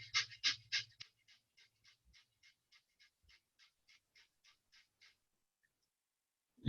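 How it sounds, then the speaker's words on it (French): Rapid breath-of-fire breathing, a run of about twenty quick rhythmic exhalations that start loud and fade steadily softer, heard alone and close. "ou une respiration de feu"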